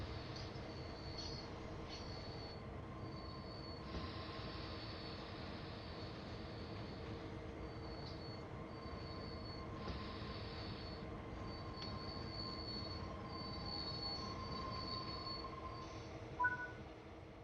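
A train braking in a PS4 train video game gives a continuous low rumble of rolling wheels with thin, high, sustained squeals coming and going over it, steady and moderately quiet, with no talking.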